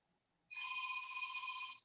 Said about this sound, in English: Oh, that's our phone.